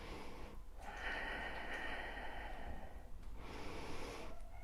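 A person doing yoga breathes deeply through a stress-relief routine, with long, faint, airy breaths and a few sharper exhales through the nose. There is no talk.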